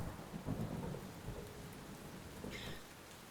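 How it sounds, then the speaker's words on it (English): Thunder rumbles low and heavy through a steady rainstorm in the video game Len's Island, with dense rain hiss throughout and a rolling swell of rumble near the start. "that lightning is loud"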